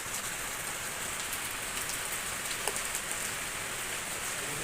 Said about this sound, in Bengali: এখন রাত্রে বৃষ্টি হচ্ছে,